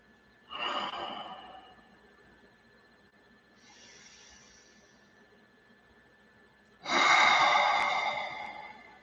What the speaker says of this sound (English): just listen to the breath as you make it cyclic